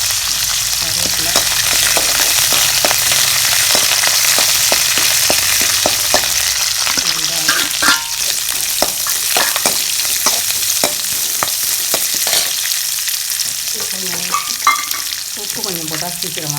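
Curry leaves and green chilies fry in hot oil in a pan for carrot rice, giving a loud, continuous sizzle and crackle with scattered pops and stirring scrapes.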